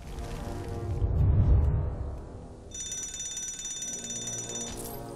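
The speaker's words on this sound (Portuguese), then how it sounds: "Bem, pelo menos o alarme de incêndio funcionou." An electronic fire alarm in the video game Lego Marvel's Avengers rings with a steady high-pitched tone after a low rumbling whoosh, continuing evenly and fairly quietly.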